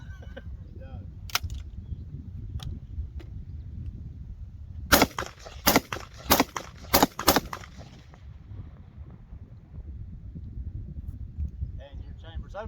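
AR-15 rifle firing a quick series of sharp, loud gunshots outdoors, five cracks in irregular rhythm with a few fainter shots before and after, under a steady background and occasional voices.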